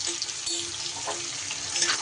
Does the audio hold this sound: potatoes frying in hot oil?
yes